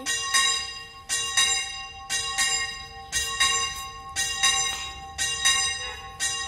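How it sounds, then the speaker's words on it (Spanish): A swinging church bell rings out in a steady series of clear, resonant strikes, about one each second, each note ringing on into the next. Only faint background noise sits underneath. "Mira, campanilla, mamá."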